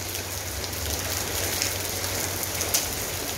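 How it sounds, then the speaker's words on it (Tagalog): A sudden hailstorm with heavy rain beating on surfaces outside a home with garden plants, a dense, constant roar of drops with occasional sharper hits, loud and close. "Hindi ko alam na mag-uulan ngayon ng yelo."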